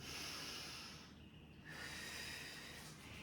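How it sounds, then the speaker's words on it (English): Heavy, hissing breaths during a squat warm-up for kitesurfers and wing foilers: a long noisy breath, a short pause, then another, close to the microphone with no talking. "I like to use my breathing."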